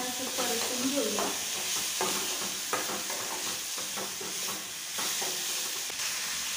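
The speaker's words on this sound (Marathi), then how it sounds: "आपण छान असं परतून घेऊया" Toor dal and masala sizzle and fry in a pan, with a continuous hiss and scattered scraping stir strokes, close and steady throughout.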